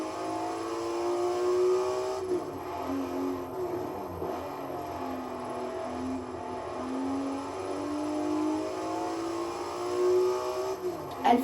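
Race car engine in the Forza video game revving hard and continuously, a loud sustained drone with rising and falling pitch sweeps as it accelerates and shifts, no talking over it.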